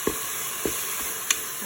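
A little oil sizzles quietly in a Cookeo pot, a faint steady frying hiss broken by three soft clicks or taps of a utensil, with no talking.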